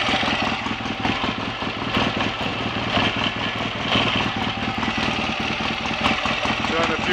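An old BSA A65 Thunderbolt motorcycle engine runs steadily nearby, a loud rough mechanical clatter holding an even pace throughout, with a voice talking over it.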